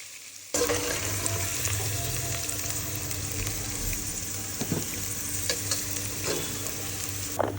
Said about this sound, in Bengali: আরেকটা তরকারির জন্য আমি আলু ভাজছি